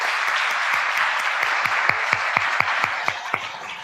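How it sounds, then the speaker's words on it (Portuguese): A church congregation applauds together, a dense steady wash of many hands clapping close and loud throughout, with a few sharper individual claps standing out near the end. "Eu queria que vocês aplaudissem o Henrique e a Alessandro também."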